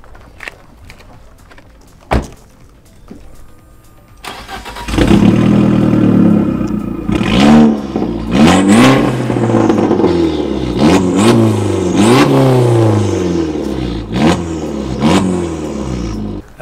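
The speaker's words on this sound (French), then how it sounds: "on va vous présenter le petit côté plaisir aussi, qui est le côté échappement" A tuned Abarth with a stage 2+ setup sits quiet with a few clicks and a thump, then fires up and is revved repeatedly, its exhaust rising and falling in loud, close blips and pops.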